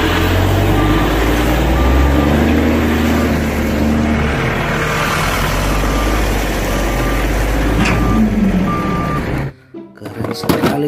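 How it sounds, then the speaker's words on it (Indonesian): A sand truck reverses with evenly spaced backup beeps pulsing over a loud, steady engine rumble, close by, before the noise cuts off near the end. "Wow, ada mobil truk pasir."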